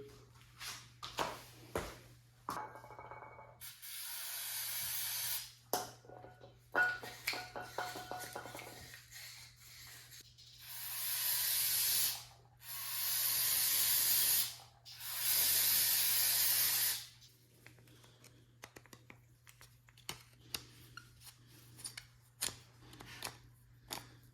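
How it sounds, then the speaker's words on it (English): Several loud bursts of hissing aerosol starter fluid sprayed into a part on a John Deere Gator, a few seconds each, with clicks and rattling handling noises between them. "Gonna spray it out with some starter fluid."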